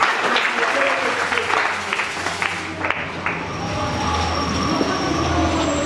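A congregation claps together during a church service, producing a dense, loud wash of applause that thins after a few seconds into a broad, rumbling murmur.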